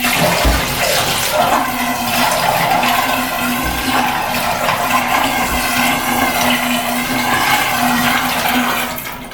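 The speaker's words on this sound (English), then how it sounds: "I filled up a bucket of water, and if it doesn't overflow, I think we're good to go." A bucket of water poured down a just-unclogged household drain gives a steady, continuous rushing and gurgling wash that lasts several seconds at close range, then tails off at the end, with no talking.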